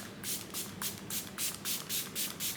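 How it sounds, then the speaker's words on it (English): A bottle of Milani Make It Last setting spray is pumped repeatedly, about eight short hissing bursts in a quick, fairly even rhythm, close and soft against a quiet room. "I'm gonna go in with the Milani Make It Last again spray"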